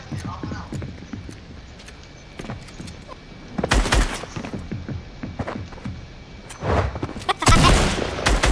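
Gunfire in Fortnite's Tilted Towers during a prop hunt match, heard as scattered shots with two louder bursts of booming fire, mixed with game effects and chatter from players talking throughout.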